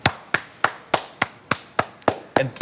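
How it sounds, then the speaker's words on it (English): Sharp, evenly spaced wood carving chops, nine crisp hits roughly a third of a second apart, close and loud with no talking. "it's about the sound of the work, of the chopping?"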